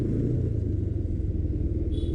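A motorcycle with a slightly troubled chain hums with a steady low engine rumble throughout while riding, close and continuous, with no talking.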